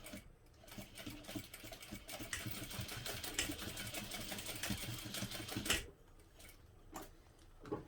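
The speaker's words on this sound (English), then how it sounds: "I'm going to do one more line of stitching that's close to the end of the" A sewing machine runs a line of stitching near the end of a tote bag strap, a steady, close, rapid mechanical chatter that holds for about six seconds before stopping, followed by a few quiet handling clicks.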